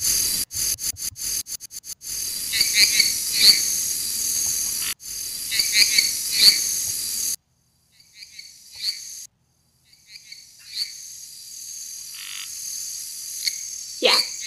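Loud, dense chorus of jungle frogs croaking and chirping in rapid repeating bursts, broken by abrupt pauses and restarts, with insect-like trills mixed in.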